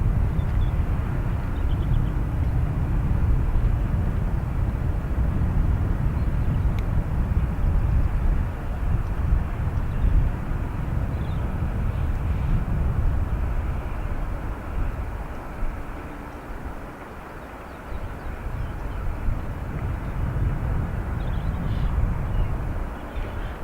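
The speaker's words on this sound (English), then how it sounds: "Our next aircraft is an Aer Lingus coming from Paris" Aer Lingus airliner arriving from Paris CDG at Dublin Airport, a loud sustained rumbling roar of jet engines that swells and fades as it passes near, with no talk.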